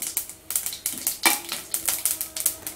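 Rapid, irregular popping and crackling, like mustard seeds spluttering in hot oil, close and fairly loud, with no talking.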